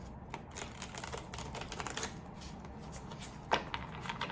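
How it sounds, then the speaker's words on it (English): Tarot cards shuffled by hand in quick riffling bursts of soft papery clicks and flutters, close to the microphone, with a sharper snap near the end. "Let me shuffle quickly."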